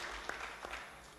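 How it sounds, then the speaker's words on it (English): An audience at a cybercrime and electronic evidence forum applauds a speaker, a soft, brief patter of clapping heard from a distance. "A big clap for Kevin."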